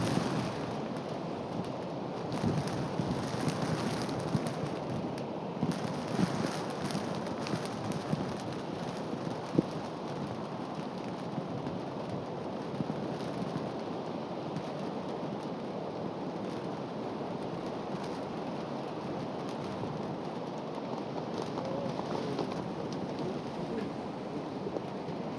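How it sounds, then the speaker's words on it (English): Sideways wind-driven rain at a golf course during a KLPGA ladies' tournament round, a constant broad rushing wash with gusty swells throughout, moderately loud and unbroken, no speech. "that is sideways rain that you can see in the background"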